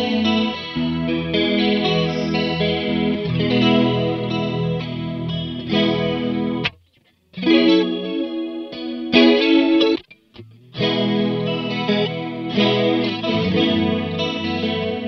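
A Free The Tone Tri Avatar TA-2H modulation pedal on electric guitar gives a thick, wavering chorus shimmer to sustained chords and picked lines, loud and continuous, with two short breaks of near silence midway.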